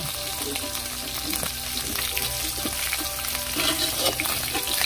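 Galunggong fish fries in a pan with a dense, crackling sizzle that holds steady throughout, punctuated by occasional spits and light clinks of a utensil.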